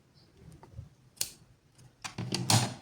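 Scissors trim a yarn end while crocheting the letter V, making a few quiet, close snips, with the crispest cuts near the end and no voice.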